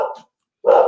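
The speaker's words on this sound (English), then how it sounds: "sorry, my dogs are barking" Dogs bark indoors: two loud, close barks with a short silence between them, and no talk over them.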